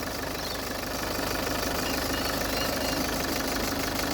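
A car engine runs with a continuous rapid knocking rattle, loud and close, holding steady at idle without voices.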